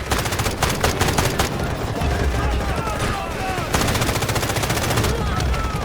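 Sustained, rapid automatic gunfire from the Delta Force shooter game, loud and close. Dense bursts run almost without pause, and a voice talks over parts of it.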